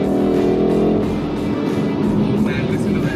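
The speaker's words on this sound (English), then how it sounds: "Oh man, listen to that exhaust." The twin-turbo 4.4-liter V8 exhaust of a BMW X5 M Competition rumbles loudly and continuously from close by, a deep steady drone with a slight rise in pitch while the vehicle is driven.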